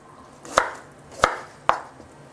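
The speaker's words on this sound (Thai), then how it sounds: "หั่นเป็นแว่นๆครับ" Knife chopping galangal into slices on a board for a spicy Thai pork rib soup: three sharp, evenly spaced chops, close and clear over a quiet room.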